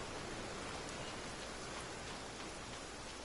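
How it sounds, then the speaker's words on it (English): Steady rain in a courtyard in the video game Genshin Impact, a dense, even hiss of falling drops that stays constant and fairly quiet, with no voices. "I love listening to the rain from the courtyard"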